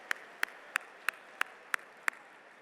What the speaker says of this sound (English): Let's give a round of applause to the servers and the cooks and everyone here at Georgia World Congress Center for their service tonight.